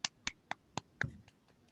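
A few quiet hand claps at an online writing event, evenly spaced, then a faint scatter of softer claps trailing off.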